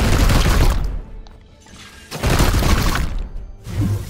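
Gunfire in Warhammer 40,000: Chaos Gate – Daemonhunters erupts in three loud, harsh blasts with a sharp shattering edge, the first two long and roaring, a shorter burst closing it out.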